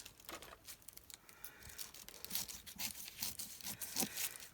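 Black tissue paper tears and crinkles in a run of short, quiet rips and rustles, close by with no talking.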